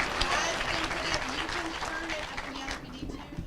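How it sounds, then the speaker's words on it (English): An audience at an eighth-grade school spelling bee claps in a moderately loud, continuous patter that thins out over a few seconds, with some faint voices underneath. "Please give them a round of applause."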